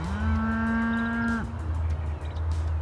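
A calf on open pasture gives one long, loud, steady moo that breaks off abruptly, followed by a low rumbling background.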